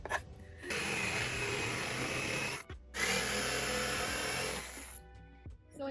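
A power tool cuts wooden blocks for a restaurant dining booth seat, whining loudly in two long passes with a short pause between them and quiet gaps before and after.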